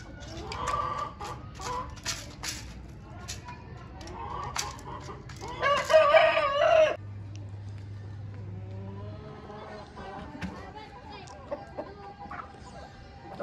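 A Chinese-breed rooster crows loudly nearby among farm chickens, with scattered clucks, a low engine hum and occasional background voices.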